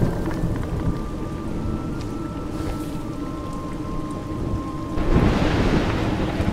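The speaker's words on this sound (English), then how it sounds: "You seem surprised that rain comes from the heavens." A thunderstorm in the video game A Juggler's Tale: steady rain patters over low rolling thunder, and the downpour swells louder near the end, with a faint tonal hum beneath and no speech.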